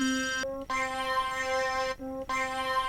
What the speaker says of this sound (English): Let's pick up here a quick little synth.